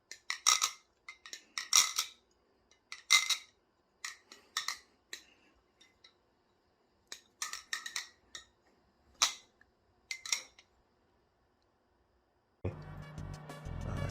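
Squid Industries Tsunami balisong knife being flipped, a run of light, crisp metallic clicks and taps in irregular bursts, close and fairly quiet, ending with a short stretch of broadband noise.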